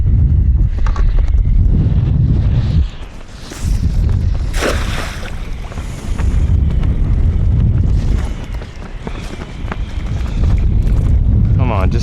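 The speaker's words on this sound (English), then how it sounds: "the wind is not making this easy" Strong wind blows across a lagoon during inshore kayak fishing, buffeting the microphone with a loud, continuous roar that swells and eases in gusts.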